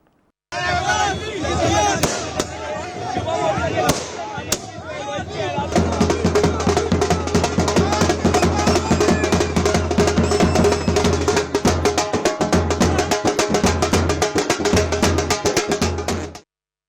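BJP party supporters celebrate an election win in Delhi with a loud crowd, drums beating and firecrackers bursting in rapid, dense cracks that grow into a near-continuous crackle over the cheering.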